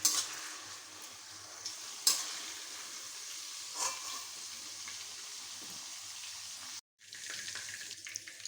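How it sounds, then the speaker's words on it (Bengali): Prawns fry lightly in hot oil with a continuous close sizzle, a few sharp spits and stirring clinks, then a brief total dropout before the frying hiss resumes. "সেই কারণে হালকা ভাজবো চিংড়ি"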